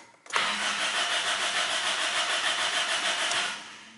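Car engine cranking over repeatedly without catching, a steady loud mechanical churn lasting about three seconds before fading, heard alone.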